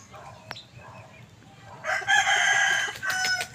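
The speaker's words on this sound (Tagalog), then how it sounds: "Ito mga ating stag." Young backyard roosters (stags) crow and cluck nearby, with a few soft clucks and a sharp tap early on, then a loud, strained crow lasting about a second followed by a second shorter crow.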